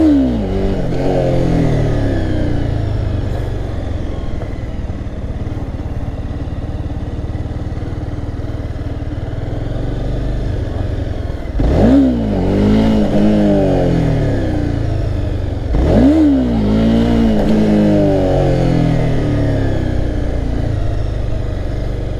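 A Honda CBR300 motorcycle engine idles and burbles nearby, then revs hard twice in quick rising surges during wheelie practice, each settling back to a rough idle.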